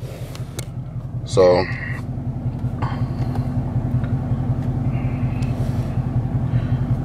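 A car driving in eco mode with a steady low engine and road rumble throughout, plus a brief chime early on, while someone talks over it.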